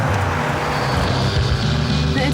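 Car engine pulling steadily under light throttle on a mountain road in the Italian Alps, a continuous close low rumble with road and wind noise throughout.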